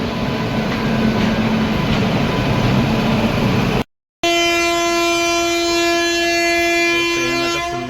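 A train bound for Vijayawada rumbles loudly past on the tracks. After a short break, a long, steady horn blast sounds over the continuing roar.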